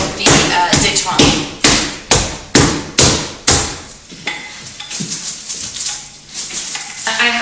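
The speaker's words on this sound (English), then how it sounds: "I'm going to start rolling out my butter. I'm actually going to give mine a few little whacks." Butter being whacked with a rolling pin to pack it down for puff pastry, about seven sharp, heavy thumps in quick succession, followed by softer rolling and handling noises, close and loud, with no talking.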